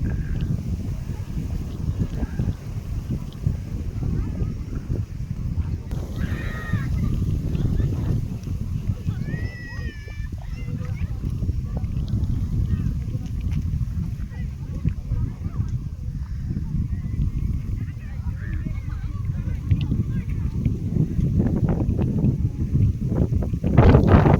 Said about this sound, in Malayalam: നല്ല കാറ്റാണ് ക്യാമറ പിടിച്ചിട്ട് ക്യാമറ ഉൾപ്പെടെ വിറക്കുകയാണ് നല്ല കാറ്റാണ്